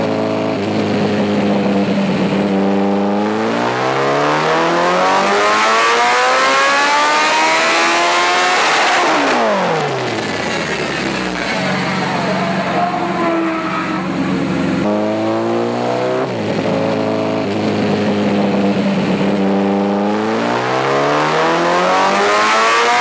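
A stock 2012 Kawasaki ZX14 motorcycle engine revs hard and close, climbing through repeated high-pitched gear pulls with a sharp drop between them, loud and continuous the whole way.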